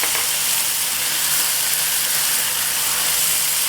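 Garlic and ginger fry with beef in a hot Mongolian beef stir fry, a loud, dense, continuous sizzle and crackle that holds steady throughout without talk.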